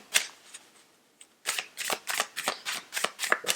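Close, crisp riffling of a tarot card deck in quick bursts, a few isolated snaps first, then a rapid run of flicking shuffles.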